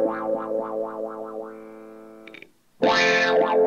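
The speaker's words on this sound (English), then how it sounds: "that wow you're hearing is every time that I press and release that pedal" Casio Privia Pro PX-5S stage keyboard with a pedal-triggered wah effect, sustained tones sweeping up and down in repeated wow cycles, then a brief gap and a brighter, louder burst, with no talking.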